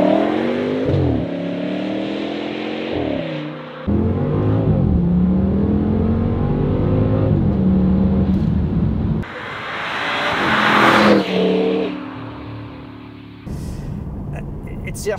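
An Audi RS6 with a 700 HP V10 accelerating hard, its engine roaring up through the revs in loud sustained pulls broken by gear shifts, heard close from inside the car.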